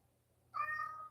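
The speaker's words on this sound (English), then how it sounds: "What are you meowing about so much, huh?" A pet cat named Captain gives a single drawn-out meow, close and clear, rising out of a quiet room and holding for about half a second before trailing off.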